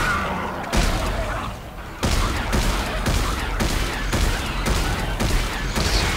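Gunfire in the Dead Space 3 video game: about eight sharp, loud shots fired at a steady rhythm, each with a short booming tail.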